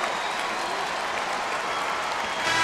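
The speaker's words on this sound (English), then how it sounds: "Round of applause." An arena crowd at a London 2012 Olympic basketball game between the USA and the Dominican Republic applauds in a steady, dense wash of many hands clapping, sustained and even throughout, with no talking.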